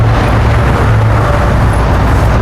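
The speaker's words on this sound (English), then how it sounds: "Watch out, there's a car there, stay there." A car on a street at a dog-training ranch produces a loud, steady road rumble and motor hum that holds at an even level throughout, without a clear rise or fade.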